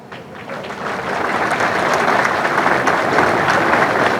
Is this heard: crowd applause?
yes